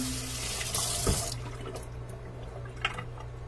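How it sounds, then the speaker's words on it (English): Water runs steadily from a kitchen sink tap as a utensil is rinsed beneath it, a soft continuous splash with a few brief clinks and drips, close by and fairly quiet. "We're going to wash this first. Because like I said, always wash every and any utensil you use."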